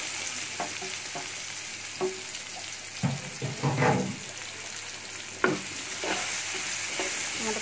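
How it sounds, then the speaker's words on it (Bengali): Chopped onions frying in oil for an egg and tomato dish, a steady broad sizzle under several sharp spatula stirs and scrapes, busiest midway, with no talking. "পেঁয়াজগুলোকে ব্রাউন করে ভেজে নেব।"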